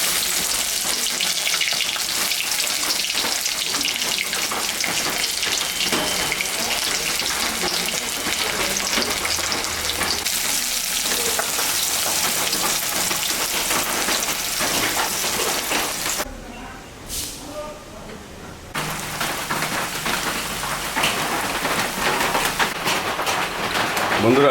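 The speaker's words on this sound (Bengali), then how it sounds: "বন্ধুরা, পেঁয়াজটা আমার ভাজা হয়ে গেছে" Onion, garlic and green chili fry in hot oil with a loud, steady, close sizzle and occasional stirring scrapes. The sizzle dips briefly partway through, then returns at full strength.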